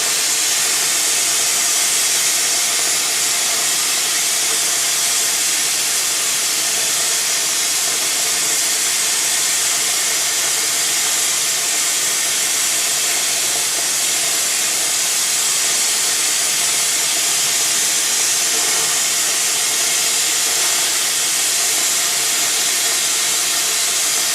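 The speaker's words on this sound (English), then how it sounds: "He's already loaded it on the machine, and then it starts the cutting process." W244 pipe profiler machine cutting a pipe, a loud constant broadband hiss like rushing gas or steam, unbroken and steady throughout, with no voices.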